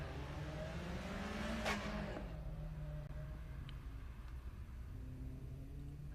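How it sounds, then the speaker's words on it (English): Porsche Boxster at a Daytona autocross event rounding a bend onto the straight, its engine note rising in pitch and then falling as the car passes and fades into the distance. "We have our Boxster driven by Patsy coming in around the bend there, hitting the straightaway"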